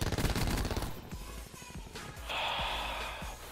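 Shotgun and other gunfire in the video game Black Ops 4: a dense burst of loud, rapid shots at the start, then a few scattered booms, then a hissing, ringing stretch at the end.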